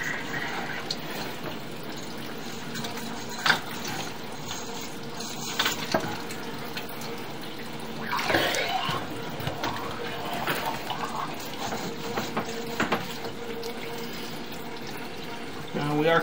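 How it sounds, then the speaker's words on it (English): A pump runs steadily at a work site on Merriweather, with water flowing and splashing in a continuous wash, occasional clanks and thumps over it, and faint talk in the background. "We currently have the pump running at this time to help with the water flow that we have coming in."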